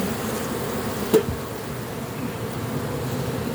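A hornet buzzing near a beehive during a hive inspection, a steady low insect drone with a single brief knock partway through and no talking.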